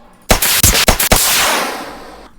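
Flare gun in The Forest fires about four quick loud pops in close succession, followed by a long hissing burn that slowly fades.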